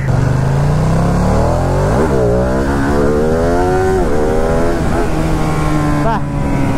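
A Ducati Streetfighter V2 motorcycle being ridden, its engine loud and close as it revs up through repeated rising pitch sweeps with quick gear changes, with a voice talking over it.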